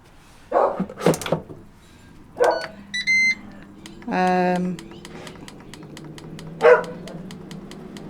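Several dog barks come in scattered bursts, mixed with clicking and tapping noises and some background talk.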